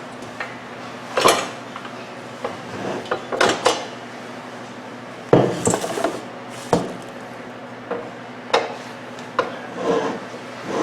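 Bowl removed from a KitchenAid Professional 600 Series 6-quart bowl-lift stand mixer, a run of close metallic clanks, scrapes and knocks in irregular bursts, no talking.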